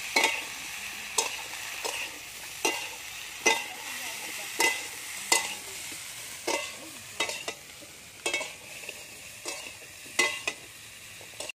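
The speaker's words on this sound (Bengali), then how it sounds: "লবণ, হলুদ গুঁড়ো, ফুলকপিটা আমি ভালো করে ভেজে নেব প্রথমে" Cauliflower frying in oil with salt and turmeric gives a steady sizzle, with regular stirring scrapes roughly every second, fairly close and with no voices.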